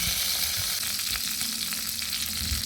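Two bay leaves fry in two spoonfuls of hot ghee in a wok, a close, continuous sizzle with light crackling and occasional stirring sounds, no voices.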